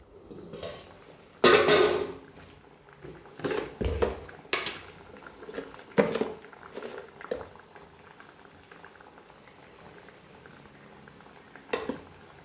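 Cassava and salt being mixed in a cooking pot: a spoon clanks and scrapes against the pot in irregular bursts over soft bubbling, with quieter stretches between strokes.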